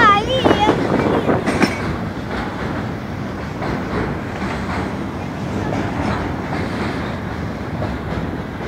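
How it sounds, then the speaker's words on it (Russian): Long freight train crossing a shaking railway bridge near Pyatiletka station in Samara, a loud continuous rumble and rolling clatter of wagons, with a brief voice at the start. "Он какой длинный, да, поезд?"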